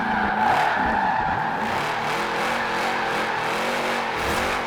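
Tires of a 2012 Shelby 1000 spin and skid in the racing game Forza Horizon 4, giving a loud, continuous squeal over a straining, revving engine whose pitch wavers up and down throughout.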